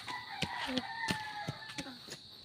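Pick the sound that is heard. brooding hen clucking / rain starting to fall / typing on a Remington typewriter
brooding hen clucking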